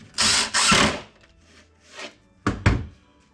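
Power drill driving screws into a wooden manger panel, two short bursts of whirring close by, a quiet gap with faint handling, then two more brief bursts.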